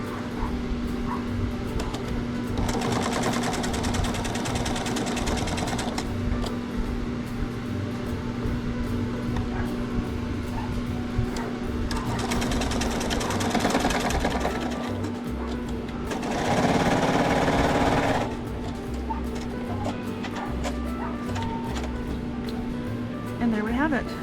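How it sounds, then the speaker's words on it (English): A sewing machine stitches quilt block seams in chain pieces, running in several loud, steady bursts of rapid needle hum separated by quieter pauses, with a constant tonal hum beneath and someone talking in between. "I'm going to sew everything in chain pieces"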